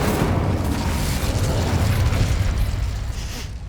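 The Incendio fire spell from Hogwarts Legacy bursts out as a loud, rumbling roar of flame, a dense booming whoosh that holds steady for several seconds before easing off.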